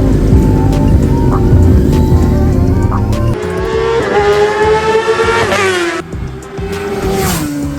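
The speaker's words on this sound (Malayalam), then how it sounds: "അവന്റെ ബൈക്കിന്റെ ഒരു വീഡിയോ ഞാനിപ്പോ കാണിച്ചു തരാം കേട്ടോ നിങ്ങൾക്ക്" Engine of a brother's motorcycle revving loud and close in a clip played back from a phone, rising and falling in pitch with a sharp throttle climb and a cutoff.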